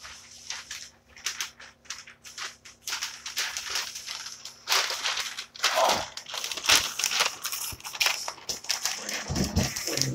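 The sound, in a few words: crumpling paper while building a fire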